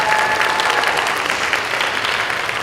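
Standing applause from the audience at a high school senior awards night, honouring a teacher: loud, dense clapping from a crowd, continuous and even throughout.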